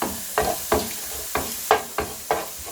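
Fennel, cardamom, cloves and cinnamon roasting in a pan while being stirred in about seven regular scraping strokes over a quiet, steady sizzle.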